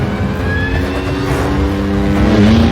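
A stunt motorcycle races along at speed during a film stunt rehearsal, its engine a loud, steady roar wrapped in rushing wind that swells slightly toward the end.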